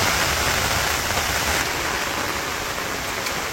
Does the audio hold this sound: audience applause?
no